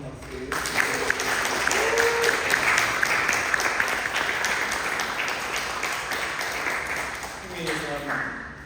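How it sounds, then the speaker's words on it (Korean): A church congregation at a Sunday worship service applauds, sustained dense clapping that fills the room nearly the whole way through, with a voice speaking over it near the start and end. "다시 한번 박수"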